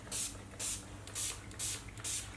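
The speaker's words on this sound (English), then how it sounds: "This is Lee Stafford Heat Protection Shine Mist. So I'm going to use this on the individual" Five short bursts of Lee Stafford heat protection shine mist sprayed onto sections of natural hair, evenly spaced pumps with hissy high spray, fairly quiet and close, no talking.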